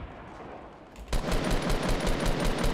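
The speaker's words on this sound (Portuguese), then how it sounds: "Já vou dar o tiro, hein." Gunfire in the video game Fortnite breaks out after a quiet second: a rapid, loud burst of repeated shots in a fast rhythmic volley that continues to the end.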